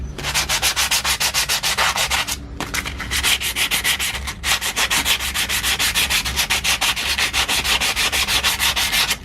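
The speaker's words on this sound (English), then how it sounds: "I'm actually going to use some sandpaper now. Just got some 120 grit, which is quite coarse" Coarse 120-grit sandpaper scrubs surface rust from brake calipers in fast, even back-and-forth strokes, loud and close, broken by two brief pauses, with no voices.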